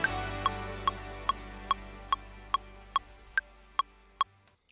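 A metronome click track in Ableton Live ticks eleven times at an even, brisk tempo, each crisp electronic click sharp and clear over a low sustained hum that stops just after the last beat.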